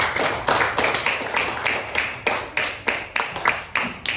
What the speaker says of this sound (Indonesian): Kasih tepuk tangan untuk Devano ya